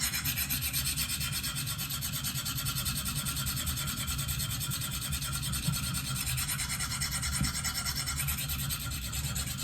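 A Benchmade Steep Country knife blade worked on a KME sharpener, a continuous soft rasping stroke of stone on steel, close and steady throughout with no pauses.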